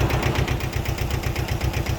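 A Japanese Iseki TS1610 mini tractor engine runs steadily close by, with a fast, even, thumping diesel-like idle rhythm and no talk.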